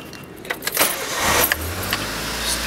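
A Mitsubishi Colt from 2000 with a new battery is started cold after sitting overnight, with a brief clatter and crank before the engine catches and settles into a steady low rumble close by.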